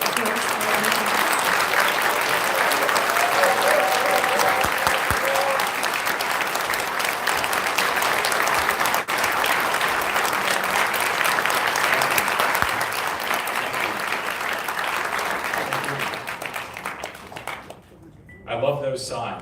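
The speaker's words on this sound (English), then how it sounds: "So make a big hand of applause." Sustained applause from an audience welcoming speaker Matt Mowers to a special lecture, dense and steady for most of the clip before thinning out near the end, with some voices mixed in.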